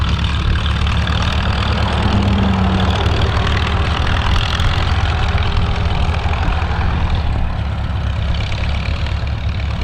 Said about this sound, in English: There's that wonderful little small orchard tractor, as he called it, with a roller.